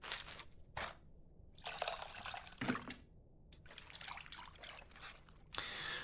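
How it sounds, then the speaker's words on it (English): Tamarind is being mixed by hand with water in a bowl in the cooking game Venba, giving soft, wet sloshing and dripping sounds in short bursts separated by quiet gaps. "It looks like I have to mix the tamarind with the water to extract its essence multiple times."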